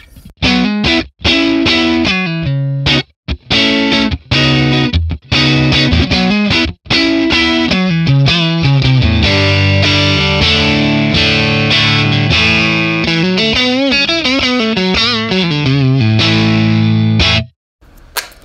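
Electric guitar on its neck pickup played through a 1964 Selmer Treble n Bass 50 valve amp, a loud, driven and slightly distorted tone with choppy chords and then sustained notes and runs for most of the passage, ending abruptly.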